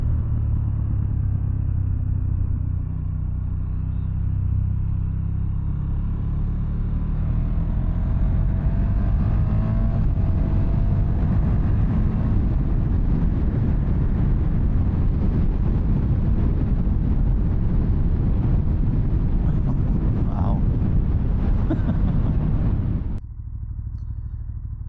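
A 2018 KTM 1290 Super Duke R engine rumbles and climbs in pitch as the bike accelerates, loud and sustained under heavy wind buffeting on the microphone, cutting off abruptly near the end.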